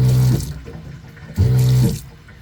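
RV water pump on a mini camper mounted to a John Deere tractor, with water running from the faucet: two short bursts of loud pump buzz and gushing flow, each under half a second, separated by quieter trickling.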